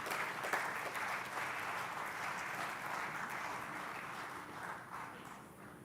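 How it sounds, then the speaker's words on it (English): Steady audience applause at a groundbreaking ceremony for an Eaton manufacturing plant, a dense wash of many hands clapping, moderately distant and fairly quiet, fading slightly toward the end. "Can we give him a round of applause, everybody?"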